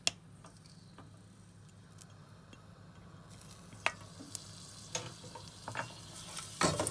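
Garlic in oil over medium heat, for a Moroccan cabbage zaalouk, gives off a faint, low sizzle with scattered soft clicks and stirring taps from the pan.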